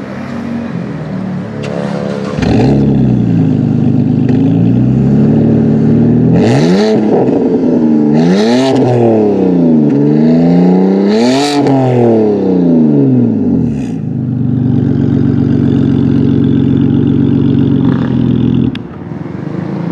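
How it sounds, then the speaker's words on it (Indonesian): A BMW E93 325i convertible with an Akrapovic exhaust starts up close by and settles into a loud idle, then takes several sharp revs that rise and fall before idling again and shutting off. "Yuk kita lihat ya, bagaimana performa Akrapovic kalau kita gas."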